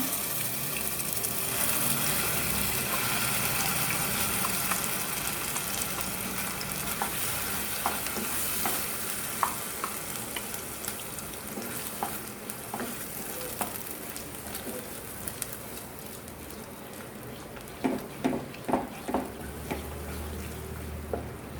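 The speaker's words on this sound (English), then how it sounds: "Saute this for 4 to 5 minutes in medium flame" Ground masala sautéing in a generous amount of hot oil for Maharashtrian misal over medium flame, a continuous close sizzle with stirring scrapes and a few sharp clinks of a utensil near the end.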